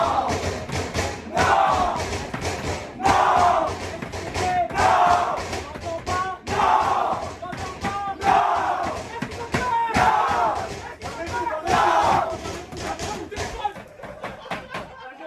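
A French National 2 football team shouts a loud collective battle cry after a 5-0 win, with rhythmic chanting voices punctuated by heavy thumps and claps, close and raucous throughout.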